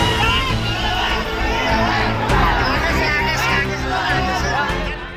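An angry crowd of protesters jostling a BJP candidate, heard as loud, close, agitated shouting and overlapping voices forming a continuous babble.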